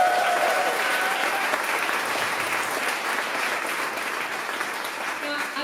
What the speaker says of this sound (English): I thank you for that amazing round of applause